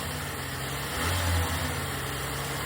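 The engine of a 2008 Lexus IS250 runs steadily during an oil change, then rises in a brief, moderate rev before settling back to idle, a continuous low hum heard nearby without speech.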